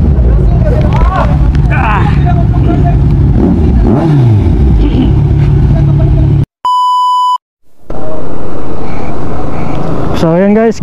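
A Kawasaki Z1000 motorcycle engine revving hard in bursts under chatter and street noise, broken by a loud electronic beep tone, then returning with rising, high revs near the end.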